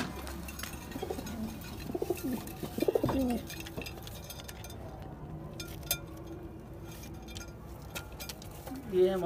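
Pigeons coo in a new breeding loft setup: soft, repeated throaty calls with faint clinks, steady in the background through most of the stretch.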